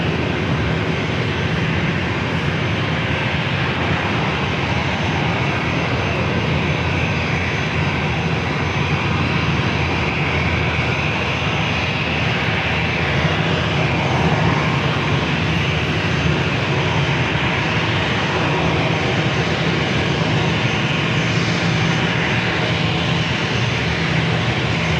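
A fixed-wing airliner takes off from runway 27 at San Diego airport, its engines giving a loud, steady roar that holds for the whole stretch with no talk over it.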